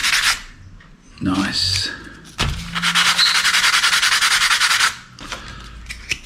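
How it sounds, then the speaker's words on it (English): Sandpaper rubs briskly back and forth over a slot car scenery flag marshal tower part, a close, loud rasping run of strokes lasting a few seconds, with a short spoken remark. "Sandpaper."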